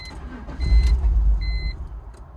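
A BMW E46 engine sputters and runs roughly, failing to idle, with a brief low rumbling surge that sags and fades, along with faint electronic beeps from the car.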